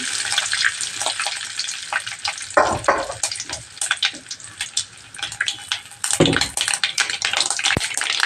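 Curd is poured into a hot pan of tempered spices for a tomato curry, setting off a loud close sizzle and bubbling with liquid splashes and stirring bursts, no voices present.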